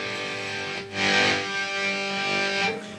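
A heavily distorted electric guitar played through a Zoom G5 multi-effects pedal rings out with sustained, buzzing chords, thick and saturated, swelling slightly partway through.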